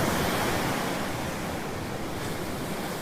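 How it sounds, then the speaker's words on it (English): Ocean waves wash steadily onto a Florida panhandle beach, a broad continuous roar of surf mixed with wind buffeting the microphone, with no voices. "On the beach, on the panhandle of Florida, just taking in the rippling effects of the waves and how it calms the nerves."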